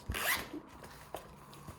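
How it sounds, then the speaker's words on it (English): A fleece-lined zip pocket on a North Face Stratoliner backpack is zipped in one quick, close pull, followed by faint handling rustles in a quiet room. "A nice fleece-lined zip pocket here."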